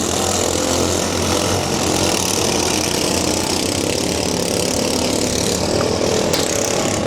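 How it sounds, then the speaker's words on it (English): Several tractors, including a John Deere, run their engines through a demolition derby arena, a steady broadband mechanical drone with no talk over it. "Down to 4 vehicles or 4 tractors left running."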